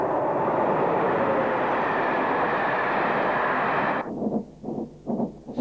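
A British Rail Class 31 diesel locomotive heads north near Stoke Tunnel, south of Grantham, in a loud, steady rumbling roar that cuts off abruptly after about four seconds, leaving only faint, uneven sound.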